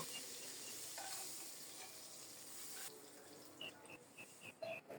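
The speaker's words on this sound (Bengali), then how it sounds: "এই তেলেই গোটা জিরা ফোড়নে দিলাম, একটা তেজপাতাও দিয়েছি" Whole cumin seeds and a bay leaf sizzle quietly in hot oil, a soft continuous hiss with a few brief sharper pops and clinks near the end.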